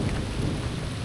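Steady rain pours down on a farm, with a low, broad thunder rumble running under the downpour and no voices.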